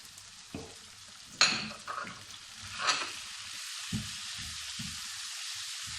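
Spices fry in a pot of garlic eggplant with a soft, even sizzle, punctuated by a few sharp stirring clanks and scrapes close by.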